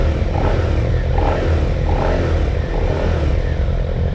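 A 2023 Suzuki SV650 motorcycle engine drones steadily throughout, loud and continuous under wind rush, with a few gentle swells in pitch as the throttle eases on and off.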